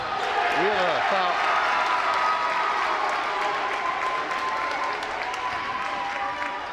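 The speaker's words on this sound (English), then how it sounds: "Crowd goes bananas, as you can hear." A basketball crowd at a Kearsarge vs Gilford boys' high school game cheers and applauds loudly and steadily, with a brief voice near the start and talk over the noise.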